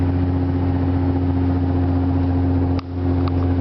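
Cummins diesel truck engine pulling uphill on cruise control, a steady loud drone with a constant low hum, heard alone without talk.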